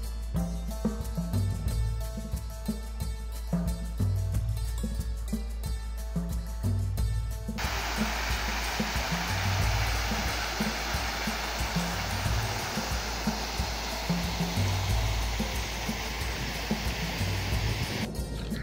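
A garden fountain splashes as a steady, dense rush of falling water, heard under a music bed for the first half and then alone, close and continuous.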